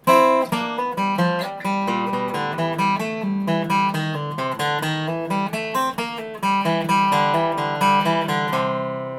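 Bright acoustic guitar picking a quick run of single-note bluegrass licks, crisp plucked notes in an even flowing rhythm, played solo and close.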